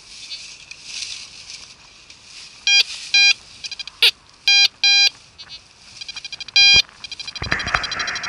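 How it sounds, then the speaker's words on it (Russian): Outdoors, a metal detector answers a strong signal with a string of loud, sharp electronic beeps in short bursts of varying length, over faint background noise. "И вот здесь появился сильный сигнал."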